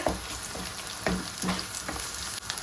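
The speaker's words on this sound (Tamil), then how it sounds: "இப்போ நான் இதுக்குள்ள குத்தி வச்சிருந்த வெள்ளைப்பூடு இஞ்சியை போடுவோம். அதை பிரட்டி விட்டுட்டு" Crushed garlic and ginger sizzle steadily in hot oil for a squid and drumstick curry, with a few soft scrapes as a spoon stirs them, close and without talk.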